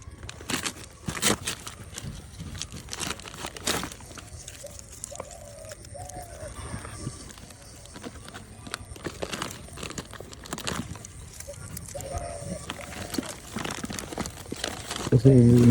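A paper bag covered in stickers crinkling and rustling as it is opened and its contents searched, with repeated crisp crumpling bursts and shuffling under occasional talk.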